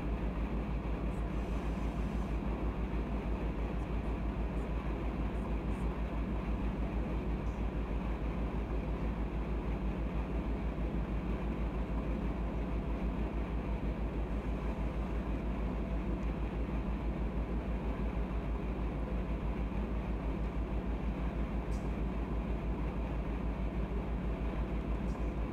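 A freight train grain run in the Run 8 train simulator, dynamic brakes applied on a downgrade, gives a steady, loud, unbroken low rumble and drone throughout with no voices.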